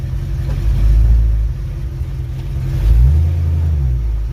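A close 1965 Ford Mustang engine on a truck frame rumbles and revs, rising twice in low, throaty surges as the vehicle pulls forward.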